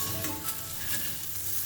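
Fried okra and curry leaves stirred together in a pan for an okra stew, with a steady soft sizzle and scraping stir sounds, close by and without talk.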